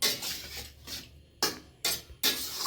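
A spoon stirs Morola fish curry with curry leaves, green chillies and oil in a pan, giving several short, soft scraping strokes separated by quiet gaps, with no talking.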